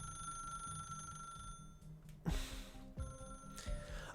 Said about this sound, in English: The ringing echoes throughout the empty room.